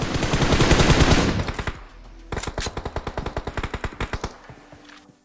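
Automatic gunfire in PUBG Mobile during a competitive match: a long, dense burst at first, then a pause and a rapid string of sharp, evenly spaced shots, loud and close.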